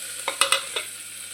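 Spices, garlic and curry leaves fry in a pan with a steady sizzle, broken by a few distinct scraping and stirring strokes up close.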